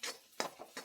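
A spoon stirring capsicum and egg bonda filling in a bowl, three or four short scraping clinks spaced apart, close and quiet, with no talking.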